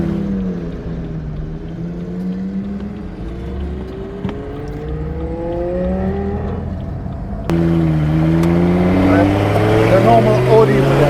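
Audi R8 V10 engine fitted in a street-legal Porsche 917 revs repeatedly in rising sweeps, growing louder after a sharp jump midway, with voices talking underneath.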